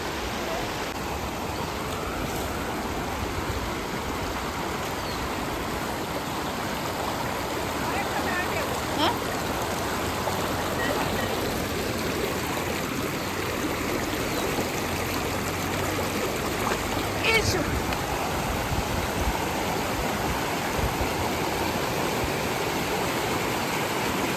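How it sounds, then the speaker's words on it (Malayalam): River water rushing steadily against a rock in the middle of a stream, a continuous broadband roar close by that holds level throughout, with a few faint splashes and no clear talk. "ആറിൻ്റെ നടുക്കുള്ള ഒരു പാറയിൽ അടിക്കുന്നത് കേട്ടോ"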